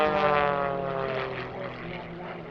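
A propeller aeroplane flying aerobatic opposition turns at the Little Gransden Airshow gives a steady engine drone with shifting pitch, moderately distant, under a commentator's voice.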